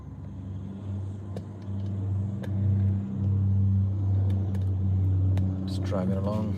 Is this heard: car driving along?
yes